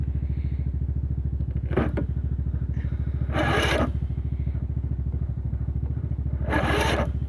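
An old starter motor cranks a cold engine in winter, a steady rapid loud chugging whir that runs throughout with no pause, joined by a few scraping bursts.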